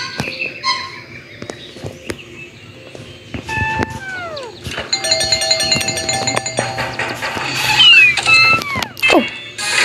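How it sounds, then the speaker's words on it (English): A cartoonish cat meows twice in the mobile game Do Not Disturb, with sliding, curving cries set among bright electronic chimes, jingles and clicks of the game's soundtrack and effects. "Oh, a cat."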